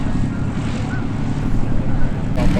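Airplane landing on the runway at EAA AirVenture Oshkosh 2019, a loud steady engine drone mixed with heavy wind noise close to the microphone.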